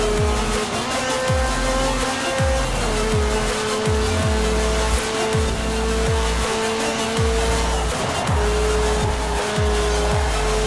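Cars race and overtake in Forza Horizon 4, with loud engines revving and dropping in repeated gear shifts, tires squealing and skidding, and a steady music bed underneath throughout.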